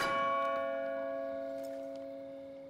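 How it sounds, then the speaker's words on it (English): A single doorbell chime in the game Far Cry New Dawn rings out and slowly decays, a clear tonal ding with a lingering ring, alone with no voices. "Is that the doorbell?"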